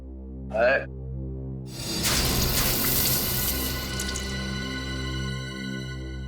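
Water is poured onto a person lying passed out from drinking, a close, steady splashing pour that starts after a brief voice and continues for several seconds over a low background hum.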